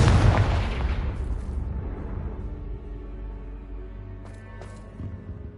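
Confringo spell blast in Hogwarts Legacy: a heavy, booming explosion opens loud, then rumbles and fades, followed by a couple of fainter crackling pops.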